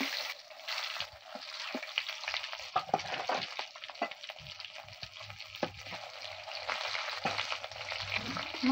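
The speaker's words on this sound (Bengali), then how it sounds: "এই যে আমি এইভাবে মাছগুলো ভেজে নেব, বেশি কড়া করে ভাজবো না, হালকা ভাজবো" Fish pieces fry lightly in oil in a pan with a continuous close crackling sizzle, and intermittent stirring and scraping sounds run through it.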